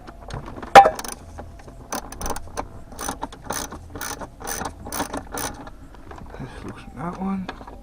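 A hand ratchet clicks in quick repeated bursts while loosening T25 bolts on a 1.8T "Big Turbo" engine being pulled, with brief pauses and a few metallic knocks between strokes.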